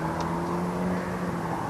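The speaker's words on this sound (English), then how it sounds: "There are car engines." A steady low car engine hum drones throughout with a faint whir on top, continuous and moderately distant, heard in darkness at a cemetery in Gateshead, UK.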